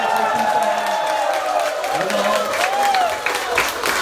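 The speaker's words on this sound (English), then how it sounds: "Can you give them the best round of applause?" A crowd claps and cheers for coaches and mentors heading up to the stage at a ribbon-cutting event, a steady mix of applause and whoops with voices and tonal sounds running through it.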